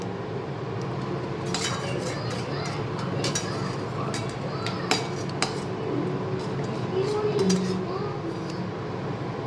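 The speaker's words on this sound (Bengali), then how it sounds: "আরও মাংসের পিস আস্তে আস্তে আমি মিশিয়ে দিচ্ছি।" Meat pieces for biryani are slowly stirred in a pressure cooker pot, a spoon scraping and clinking softly against the metal in scattered taps under a steady low background hum.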